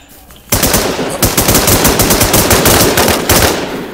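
Loud rapid automatic gunfire from the video game Infestation Survivor Stories breaks out after a short quiet pause and continues as a dense, continuous burst of close-sounding shots.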